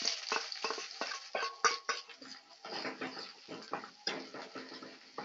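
Chopped onions frying in a pan for an elephant yam sabji, sizzling and crackling near and fairly quiet, broken by irregular scraping stirs with a utensil.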